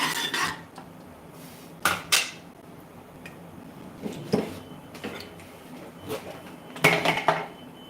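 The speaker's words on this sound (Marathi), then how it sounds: "शेंगदाणे टाकायचे शेंगदाण्यांना मस्त थोडंसं हलवायचंय असं" Peanuts being stirred in hot oil in a cooking pan, with scattered scraping and metallic clinks of a spoon against the pan coming in irregular bursts against a quiet kitchen background.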